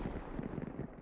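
Artillery shell firing and landing in the tank battle video game World of Tanks, heard as a brief, dense rumbling boom that fills the whole second at steady loudness, with no talk.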